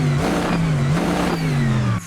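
Mercedes AMG GT3 Evo race car sitting in the pit lane, its engine revving loud and close in steady, slightly rising pulses for about two seconds, then cut off abruptly.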